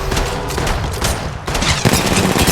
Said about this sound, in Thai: มีศัตรูอยู่ตรงนี้กำลังยิง